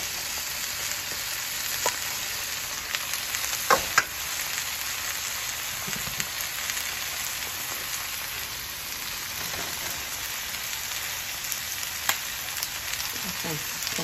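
Cabbage, carrots and broccoli fry for lo mein in a hot pan, with a steady, close sizzle hissing throughout. Occasional clinks and stirring knocks break through it.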